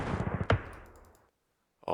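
Gunfire in the World War II wargame Campaign Series: Rising Sun, a quick burst of several rapid shots ending in one sharp crack that decays, then a brief silence before another shot begins.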